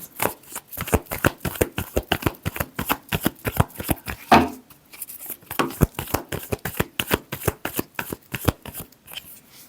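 Tarot cards shuffled in a fast, steady riffle of crisp slaps and flutters that runs through the whole stretch, close and fairly loud, with a brief pause near the middle before the shuffling resumes.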